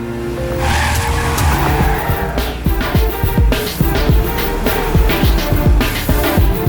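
In a movie chase, a car races hard with repeated loud tire squeals and skids over a roaring engine, with no voices.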